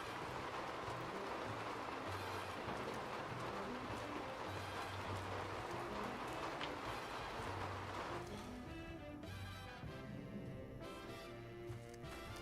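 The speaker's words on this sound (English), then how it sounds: "At least the rain is kind of comfy to listen to." Steady rain in the video game Fallout New Vegas, a constant dense hiss and patter that fills the scene throughout, with a faint low rumble underneath and no talking.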